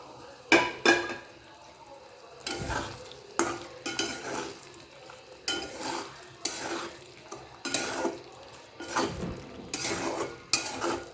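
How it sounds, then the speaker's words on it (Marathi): A spoon scrapes and clatters in a pan as shallow-fried potatoes are stirred into masala, giving irregular bursts of stirring over a soft sizzle, close and without talk. "मस्त व्यवस्थित कालवून घ्यायचं"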